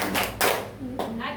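A classroom group performs a rhythmic focus-clap ice-breaker led by a teacher, producing a few short bursts of clapping in quick succession, close and moderately loud, with voices mixed in.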